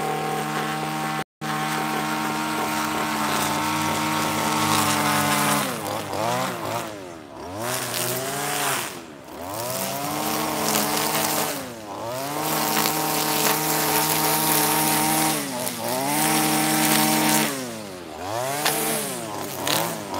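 A Red Max string trimmer runs nearby with a steady buzzing engine whine that rises and falls in repeated revving swells through the whole stretch, heard with no talking.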